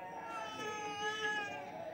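A person voices a cat's meow, a drawn-out wavering human imitation of a cat, close and fairly quiet, with a steady murmur of background noise beneath it.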